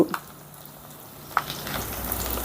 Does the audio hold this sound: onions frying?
yes